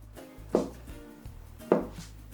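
Two sharp knife chops finely slicing sausages on a cutting board, spaced about a second apart, close and distinct over a low background hum.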